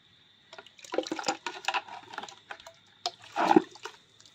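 Water pours steadily into a drum beside household plants, with a splashing, gurgling flow that swells toward the end as the drum fills.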